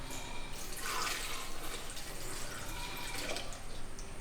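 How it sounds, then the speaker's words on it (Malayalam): Milk pours into a mixer jar while tender coconut juice is being made, a steady liquid splash and trickle running through the whole stretch with no talk over it. "ഇനി നമുക്ക് പാലൊഴിച്ച് കൊടുക്കാം."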